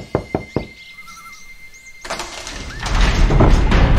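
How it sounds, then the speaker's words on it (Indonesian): Three sharp knocks on a grand palace door sound close and loud, then a quiet pause with faint tones before a swelling rush of music or ambience fills the rest. "Kemudian kucing bersepatu bot itu mengetuk pintu istana yang megah."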